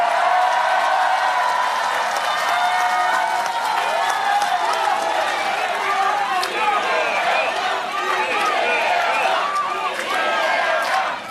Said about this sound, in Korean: 박수 좀 크게 쳐주세요.